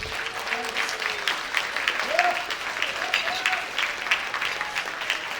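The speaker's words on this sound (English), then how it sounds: "Give another round of applause." Audience at a youth luncheon keynote applauding, a steady crowd clapping with a voice briefly speaking over it partway through.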